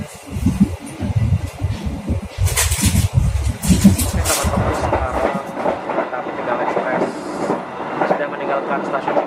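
The Tegal Express long-distance passenger train runs on the rails between Cikampek and Cirebon, a loud rumbling roll with rhythmic clattering heard from inside the carriage, as someone speaks over it for the first few seconds.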